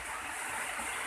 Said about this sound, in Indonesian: kita akan isi air botol ini ya.